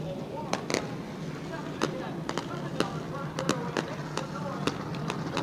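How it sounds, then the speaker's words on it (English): Fireworks go off after the Clyde Hart Memorial 100 race at New Smyrna Speedway, with scattered sharp pops and crackles bursting irregularly over a steady background while a voice talks. "The fireworks are going off"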